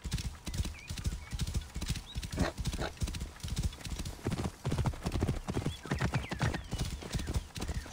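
A horse gallops in Assassin's Creed Origins, hooves pounding in a fast, steady rhythm close up, loud and continuous for the whole stretch with no voices over it.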